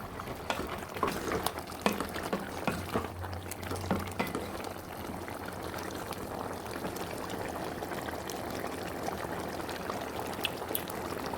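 Ash gourd cooking in a pot and being stirred: a faint, continuous bubbling simmer with a few soft scrapes and knocks early on, and no voices.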